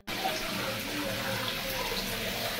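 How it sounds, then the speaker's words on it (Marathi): Water poured over someone's hands makes a steady, close rushing stream that runs without a break for the whole few seconds. "पाणी बिणी टाकायचं हिच्या हातावर."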